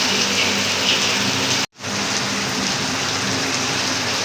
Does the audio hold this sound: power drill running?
no